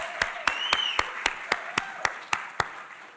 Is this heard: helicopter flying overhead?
no